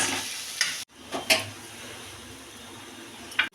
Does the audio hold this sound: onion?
yes